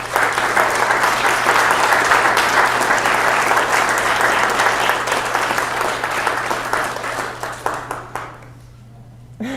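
Sustained, dense applause from a public astronomy lecture audience after a talk on black holes, loud and steady before thinning into a few scattered claps that fade toward the end.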